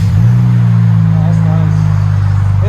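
A 2021 Dodge Challenger GT AWD with a Flowmaster Flow FX exhaust rumbles loud and close in a steady low drone with a slight rise, while people talk briefly over it.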